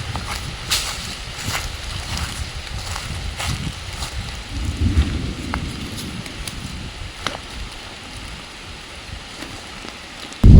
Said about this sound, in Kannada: ಫುಲ್ ಮಳೆ ಸುರಿತಾ ಇದೆ